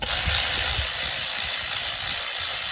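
A ratchet with a 10mm socket loosens bolts on a 2012 Honda Accord during spark plug replacement, giving a fast run of close, rasping clicks over a steady background hiss.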